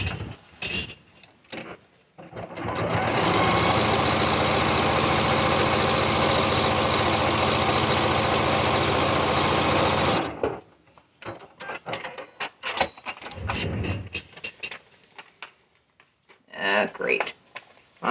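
A sewing machine stitches a quilt block in one loud, continuous run of about eight seconds, with intermittent talking before and after it.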